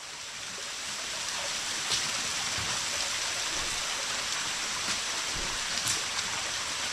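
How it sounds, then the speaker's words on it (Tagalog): A waterfall pours beside a river in the wild, a steady, soft broadband rush of falling water heard from some distance, continuous and unbroken with no talking. "Ilang waterfalls na ito Toy?"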